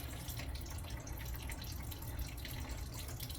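Water pouring steadily into a measuring container for candle making, a continuous close splashing trickle with dripping, quiet and without talk.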